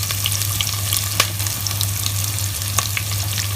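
Chopped onion sizzles steadily in hot oil over medium-low heat for a Bangladeshi tripe bhuna, a continuous loud crackling fry with scattered sharper pops and a low steady hum underneath.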